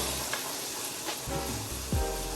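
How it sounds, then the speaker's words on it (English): Chicken pieces sear in a hot pan for a creamy chicken pasta, giving a steady close sizzle with a brief louder hiss and scrape near the end as a piece is moved. "Now we're gonna sear them on each side for about 2 to 3 minutes"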